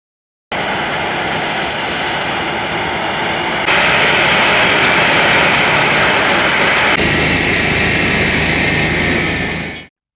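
A Boeing 737-800 jet airliner arriving at Gazipaşa Alanya Airport on its first flight from Brussels, a loud continuous engine roar and rushing whine that swells midway and holds before cutting off.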